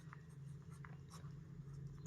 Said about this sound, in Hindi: तो अब लिखते हैं हल